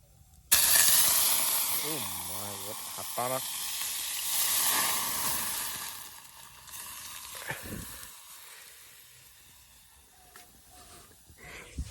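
Loud hissing sizzle as rice hits hot oil, fading to steady frying with stirring scrapes, while a person talks nearby.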